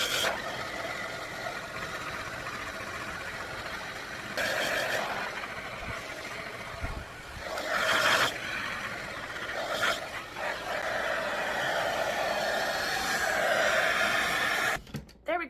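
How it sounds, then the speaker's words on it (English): Hair dryer blowing on wet hair flipped upside down, a steady broadband rush running through the whole stretch with the airflow shifting louder and softer as the dryer moves, plus brief handling bumps near the end. "we are just gonna flip our head upside down and blow dry from wet to completely dry"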